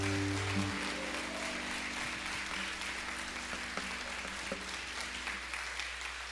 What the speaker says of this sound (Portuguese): se você acredita, pode aplaudir este Deus tremendo